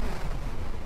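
Laser cannon fire from the Amiga shoot-'em-up SWIV, a dense, continuous stream of low rumbling blasts with steady loudness throughout the short burst, no voices.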